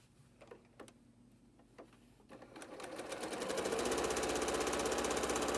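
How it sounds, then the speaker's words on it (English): A sewing machine stitches quilt block pieces for a maple leaf block with a quarter-inch seam, a few soft ticks first, then a steady rapid whirring run that grows louder and holds to the end. "sew it together with a 1/4 inch seam"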